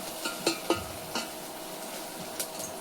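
Onion masala with curry leaves and coriander is stirred in a pan, a soft sizzle under a few distinct spoon-on-metal scrapes and taps, quiet and close with no speech.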